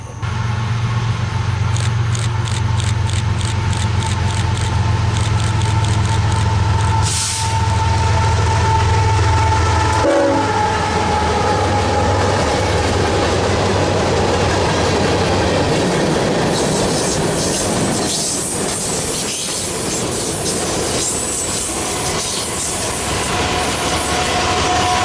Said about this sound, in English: we watch a BNSF manifest make the final stretch of its journey to Memphis